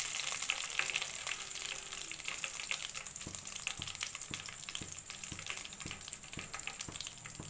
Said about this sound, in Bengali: দেখুন গ্যাস একদম আস্তে করে ফ্রাই করেছি।